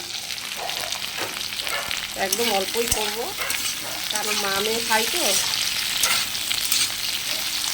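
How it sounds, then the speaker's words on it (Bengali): Vegetables sizzle and crackle steadily in a hot pan while someone talks over the frying, with occasional stirring scrapes. "এবার এই সবজিগুলো আমি ভেজে নিচ্ছি।"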